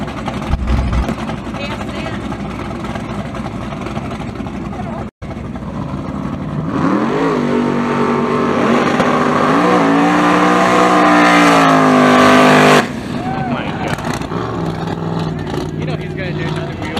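No-prep drag race cars with big-block engines launch and scream down the strip, one loud rising run building for several seconds then cutting off, with excited commentary spoken over the roar.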